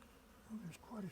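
Insects buzz close by, their wing hum rising and falling in short swells, with a few individual bees passing near.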